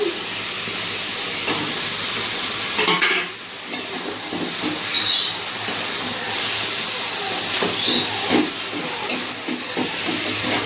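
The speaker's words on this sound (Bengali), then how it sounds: "এবার ভেজে রাখা তেলাপিয়া মাছগুলো দিয়ে দেবো।" Fried tilapia pieces go into a pan of kochur loti cooked with chili, setting off a loud, steady sizzle and hiss with occasional scraping stirs, close up and continuous throughout.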